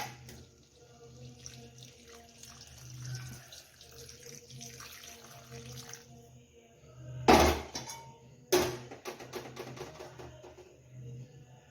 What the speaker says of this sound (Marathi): गरम पाणी थोडंसं घालून घेऊया